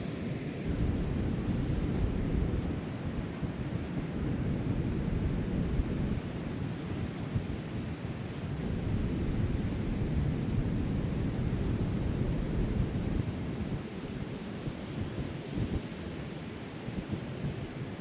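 Steady wind roars across an open beach, buffeting the microphone with a continuous broadband rumble that stays loud and even throughout, with no voices.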